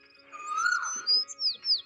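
Cartoon sparrow and cuckoo chirping, a few bright high tweets and short rising calls that grow louder toward the end over a soft musical background, with no talking.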